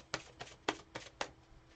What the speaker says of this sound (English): I gotta shuffle, I have to shuffle, I have to keep shuffling.